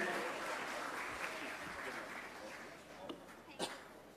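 Audience applause for the children at a Punjabi academy centre event, a steady wash of clapping filling the whole stretch at moderate level with a couple of sharper claps near the end.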